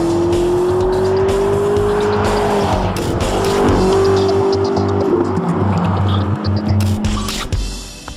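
McLaren XP beta test car running on the IDIADA proving ground, with a loud steady engine drone at sustained speed, pitch shifting gradually as it passes, then fading near the end.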